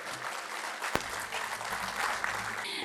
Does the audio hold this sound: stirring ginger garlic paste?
no